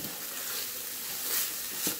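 Ground beef seasoned with kosher salt and black pepper frying in a pan for a tater tot casserole: a quiet steady sizzle with occasional stirring scrapes, fairly faint and alone.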